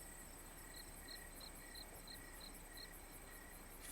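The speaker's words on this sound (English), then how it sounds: "I hear crickets" Steady, evenly spaced cricket chirps repeat throughout over a soft, constant background hiss; the insects sound moderately close and keep a regular rhythm.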